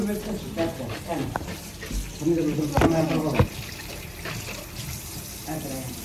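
Fruit being washed under a running kitchen tap, a steady splashing water stream with clatter and rubbing sounds, while people talk over it close by.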